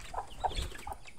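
A chicken clucks three short times at a pigeon keeper's coop, the soft calls fairly close but quiet against low background hum, with no talking.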